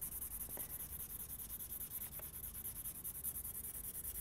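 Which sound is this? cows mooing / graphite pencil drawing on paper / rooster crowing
graphite pencil drawing on paper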